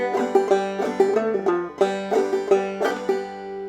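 Clawhammer banjo playing the A part of the old-time tune June Apple: a steady rhythmic run of bright plucked notes and brushed strums, close and clear, with no voices.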